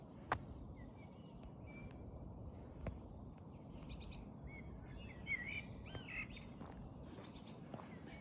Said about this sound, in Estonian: Linnud lihtsalt räägivad muga põhimõtteliselt